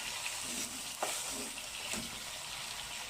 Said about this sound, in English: So let's fry the meat first.